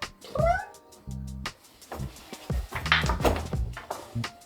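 A cat meows a few times nearby, short rising cries amid clattering and a person's voice in the background.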